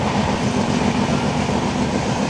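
The Sealdah–New Alipurduar Padatik Express rolls past, a loud, steady rumble with rhythmic clickety-clack of wheels on rail joints, continuous and close throughout, with no one speaking.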